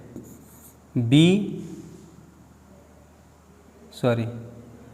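Marker or chalk writing on a board in a maths lesson on solving two-variable equations by cross-multiplication, heard as two short scratchy strokes near the start and again near the end, with quiet gaps between.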